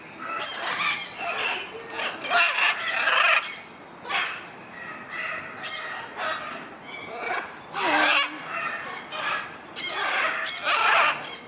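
Noisy birds at a zoo park in the morning let out repeated squawks and squeals, some near and loud, rising and falling in overlapping bursts with short gaps between them.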